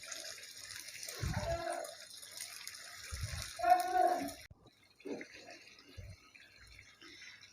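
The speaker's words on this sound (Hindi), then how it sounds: "अब हम इसमें आधा गिलास पानी डालेंगे ग्रेवी बनाने के लिए।" Half a glass of water is poured into frying beef kofta curry to make gravy, bringing short splashing gushes and sizzling against a faint kitchen hum, with quiet gaps between.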